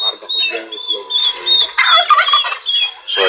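A turkey gobbles in repeated warbling bursts close by on a backyard chicken-raising farm, its calls rising and falling throughout with little else behind them.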